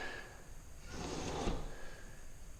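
An internal blind set inside a front door's glass is raised and adjusted, giving a close sliding, rattling rush that swells in the middle and then fades, with no voices.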